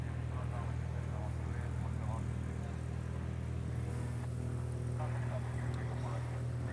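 Airliner on final approach at Honolulu airport, a distant steady engine drone holding throughout beneath faint background talk and outdoor noise.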